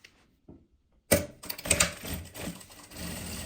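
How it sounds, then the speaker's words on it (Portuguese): A sewing machine stitches around the edge of a fabric pocket on a travel bag, a fast, steady mechanical whir that starts after a short quiet moment and runs on at close range. "Aqui nós vamos costurar em volta do nosso bolso."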